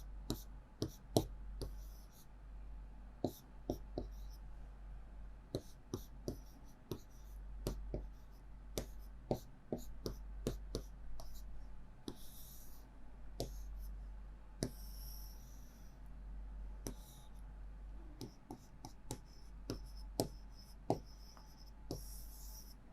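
Pen writing on paper while a maths answer is worked out by substitution in a Class 12 lesson: faint, close, irregular scratches and taps with occasional strokes, quiet under a steady low hum, with no voice.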